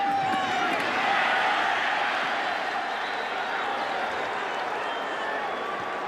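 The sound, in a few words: uneasy football stadium crowd at Jacksonville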